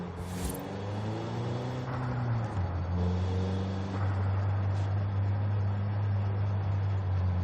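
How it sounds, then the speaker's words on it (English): A Nissan Sentra Nismo in Forza Horizon 5 rumbles with a deep, loud engine note, its pitch sliding down after a brief rev and then holding a steady low drone, close and alone. "Just a very, very deep sounding engine"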